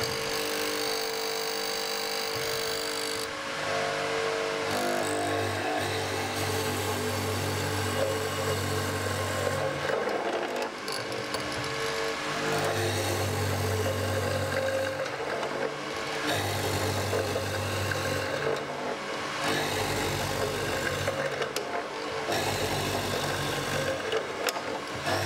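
A mortising machine cuts a stub tenon mortise through timber for a panel door, its motor running loud and near in repeated bursts of droning, grinding cuts separated by short lulls.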